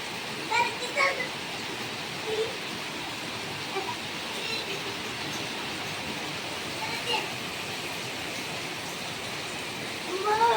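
Steady heavy evening rain hisses as a dense, even wash of noise, with a few faint voices and brief knocks rising now and then.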